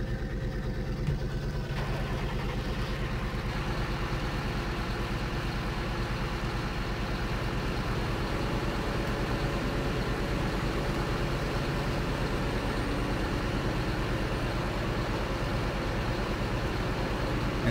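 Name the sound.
silage blower machine running in Farming Simulator 2013 video game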